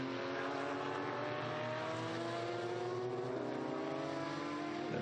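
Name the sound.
historic race cars passing, Porsche 996s and TVR Tuscans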